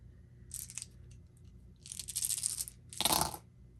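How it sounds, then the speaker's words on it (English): Dice rattling and clattering during a solo tabletop RPG session, three separate short bursts of rolling clicks, close and fairly quiet with no voice. "Danger Devil is going to make a roll to see if he can detect heartbeats in the area"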